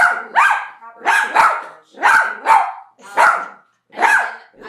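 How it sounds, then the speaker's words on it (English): A dog named Princess barks loudly and close by, giving about six sharp, evenly spaced double barks with short gaps between them. "We can make a whole thing with Princess barking"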